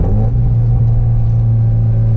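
Modified 2013 Scion FRS engine downshifting, a loud, close, low droning rumble that holds steady under load for a couple of seconds, with no voices.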